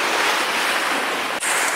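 Seawater surges loudly and steadily into Mermaid's Grotto, a sea cave in Okinawa, a close, continuous roar of churning surf with a brief dip before the rush resumes.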